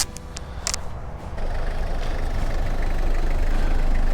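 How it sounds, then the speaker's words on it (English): A pickup truck's engine grows steadily louder as it approaches, a low rumbling drone rising from a few sharp clicks at the start, with no talking. "Ah, there's a guy coming up in his truck."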